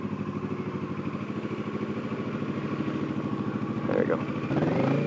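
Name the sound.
motorcycle engine idling while parking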